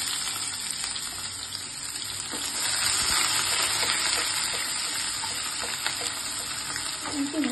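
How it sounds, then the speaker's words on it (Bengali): Chopped onions fry in mustard oil, giving a steady, fairly quiet sizzle close by with faint stirring clicks and scrapes, and a slightly watery background hiss throughout. "আমি দিয়ে দিচ্ছি পেঁয়াজ কুচি।"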